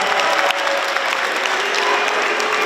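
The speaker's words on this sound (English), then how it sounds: "Round of applause for Mr. Kuchar" A school rally crowd claps steadily and loudly for a few seconds, a dense, even wash of applause with no pauses.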